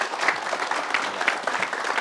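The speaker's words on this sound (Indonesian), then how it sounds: "tepuk tangan buat Kak Vega dulu" A studio audience claps for Vega on an Indonesian talk show, with brisk, dense applause sustained at an even level for a couple of seconds and no talk over it.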